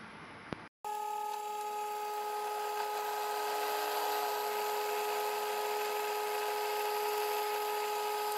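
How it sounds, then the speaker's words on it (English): A drill bores a quarter-inch hole in a piece for a clockmaker's depthing tool, making a steady, loud, continuous whine that starts abruptly and holds unchanged throughout, with no talking. "I drilled a 1/4 inch hole up here, 1/4 inch hole down here"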